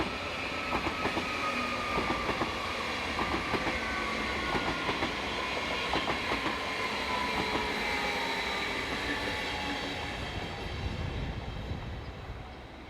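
A Westfalenbahn class 445/446 double-deck Vario electric unit, number 010, slows into a main station. Steady rolling rumble and rhythmic wheel clatter fill the track, with faint gliding tones as the train decelerates and the sound eases toward the end.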